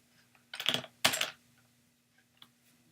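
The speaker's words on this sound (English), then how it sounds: "Oh, here I am typing stuff." Two short bursts of keystrokes on a computer keyboard during programming work, quick clustered clicks close to the microphone, followed by a couple of faint isolated taps in an otherwise quiet room.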